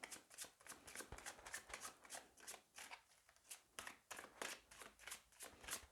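Close, soft shuffling of tarot cards, a steady series of brisk papery riffles and slaps repeating for several seconds, quiet and free of talking.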